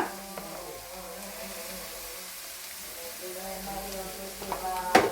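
Yippee noodles being stirred in a hot pan with turmeric and masala powder, giving a steady close sizzle and frying crackle with scraping stirs, brief louder clatter near the end, and no talk.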